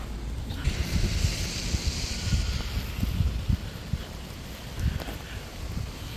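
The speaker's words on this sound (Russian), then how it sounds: "Да, ветер поднялся." Wind rises outdoors along a residential street lined with old Soviet-era houses, a low rumbling buffet with gusty surges and a faint airy hiss, heard alone.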